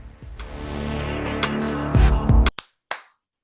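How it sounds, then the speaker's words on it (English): Podcast hosts clap at the end of an episode, a loose scatter of hand claps over a low hum, followed by a few sharp, separate claps that ring out before silence. "you always ruin it when you clap"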